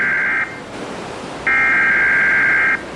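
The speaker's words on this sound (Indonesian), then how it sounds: "Ketika secara mengejutkan alarm berbunyi." Loud electronic emergency alert tones from a television: a short steady beep, a pause, then a longer sustained tone over a faint background hiss.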